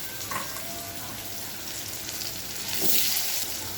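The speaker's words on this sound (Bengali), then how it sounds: "আলু কটা আগে ভেজে নেব" Potatoes fry in a pan for a Bengali fish curry, a continuous close sizzle that swells louder near the end, with light stirring and no speech.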